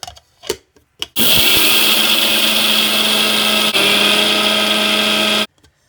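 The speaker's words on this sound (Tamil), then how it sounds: "இதை மிக்சி ஜாரில் போட்டு நல்லா பொடியாக அரைச்சி எடுத்துக்கலாம்" A mixie jar grinds ingredients to a fine powder for kozhukattai filling, a loud steady whirring roar running about four seconds after a couple of short bursts, then cutting off abruptly.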